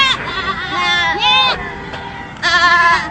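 Goats bleat loudly in repeated wavering cries at a roadside pick-up truck crash on a toll road, with a murmur of people in the background.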